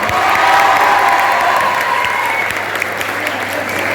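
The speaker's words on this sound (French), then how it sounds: "tous les professeurs ici présents que je vous demande d'applaudir très très fort" Loud, sustained applause from a crowd, dense clapping throughout with a murmur of voices mixed in.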